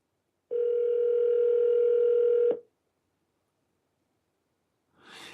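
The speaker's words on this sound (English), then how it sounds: "Alexa, call Sweetie Petey. Calling Sweetie PD's mobile" Alexa smart speaker placing a phone call gives a single steady outgoing ring tone lasting about two seconds, clear and close, followed by silence and then a brief faint rustle.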